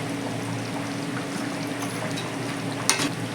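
Bhetki fish kalia gravy, with garam masala powder just added, simmers and bubbles in a pan: a continuous soft, even hiss of boiling liquid with a small clink near the end.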